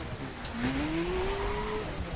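Mazda MX-5 in The Crew racing game, steady engine drone with a rising tire squeal under braking, continuous and moderately loud, with no voices.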